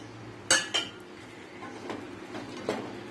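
Utensil stirring rice in a cooking pan for carrot rice with coriander, giving two sharp metallic clinks followed by softer scraping and occasional taps against the pan, close and fairly quiet, with no talking.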